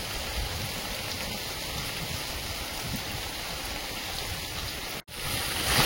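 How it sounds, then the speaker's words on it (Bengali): Heavy rain pours down steadily outdoors in a vegetable garden, a dense, loud, hissing wash that cuts out for an instant near the end before resuming. "এত জোর বৃষ্টি এসেছে, আজ রান্না করা বিরাট চাপ আছে।"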